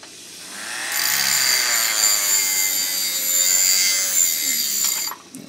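A rotary tool sharpens a flat leather-working knife. The motor whines steadily at high pitch and a continuous gritty grinding runs for about four seconds before it winds down, close and alone.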